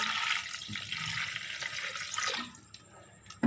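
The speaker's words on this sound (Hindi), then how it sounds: "इसमें हम तकरीबन 2 गिलास पानी शामिल करेंगे जिसमें गोश्त गल जाए" About two glasses of water are poured into a cooking pot of mutton with spices. The steady, splashing pour lasts a couple of seconds, then stops abruptly, with no talking.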